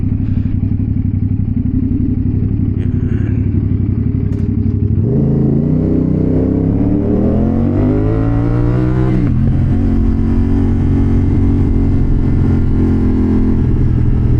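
A CFMOTO 450SR-S motorcycle rides onto an expressway, its engine droning loud and close, then revving up through a rising sweep mid-clip before settling into a steady high cruise.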